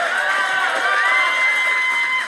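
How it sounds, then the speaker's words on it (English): A live podcast audience cheers and claps in a dense, steady roar, with high whoops and shouted voices riding over the crowd noise for a couple of seconds. "Give them another round of applause."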